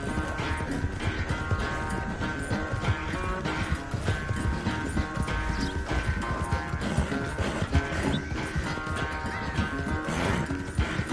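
Rhythmic clip-clop of horse hooves in Red Dead Redemption 2 over a dense, steady mix of music and game noise, the hoofbeats continuous and fairly loud throughout.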